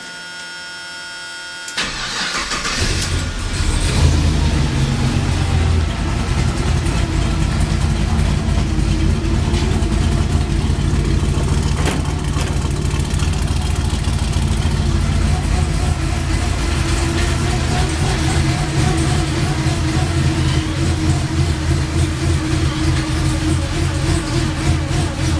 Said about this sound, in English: I think that's the power steering you hear.